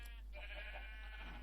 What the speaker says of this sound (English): I do have 2 white sheep.